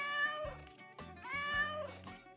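Cats at the old port of Mykonos, Greece, meow repeatedly at close range, with several drawn-out overlapping calls over a faint low background hum.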